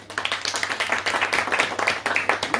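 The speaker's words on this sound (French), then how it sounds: "vous pouvez applaudir" An audience applauds at a French literary conference as an author is introduced, a dense, steady patter of many hands clapping close by, sustained throughout with no break.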